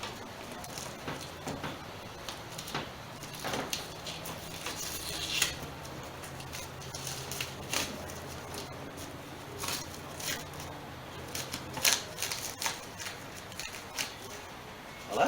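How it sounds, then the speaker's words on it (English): Plastic trim being worked loose on a 2006 Chrysler Sebring during a headlamp replacement, a scattered run of close crackles, snaps and scraping clicks with sharper pops near the end, with no talk over it. "Let's pull some of this plastic off of here"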